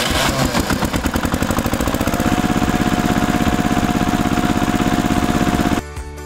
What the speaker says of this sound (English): TRACTOR tractor.